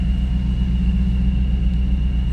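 A 1994 Pontiac Firebird Trans Am 25th Anniversary engine idling after a cold start, a steady low rumble with an even pulsing throb and a faint high whine, constant throughout.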